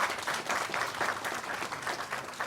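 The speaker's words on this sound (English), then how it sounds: "Kindly give them a round of applause." Audience applause at a national environmental moot court competition round in Ghana, a dense rippling round of clapping that stays steady and fairly loud throughout.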